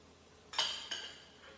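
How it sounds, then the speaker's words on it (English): A knife scrapes and clinks against a plate while slicing a sous vide cooked chicken breast, two quick, bright metallic contacts close by in an otherwise quiet room. "I'm gonna cut my chicken, cooked all the way through"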